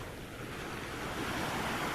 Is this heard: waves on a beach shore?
yes